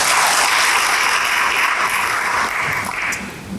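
A church congregation applauding, a dense, steady wash of many hands clapping at once, holding loud for several seconds before easing slightly toward the end.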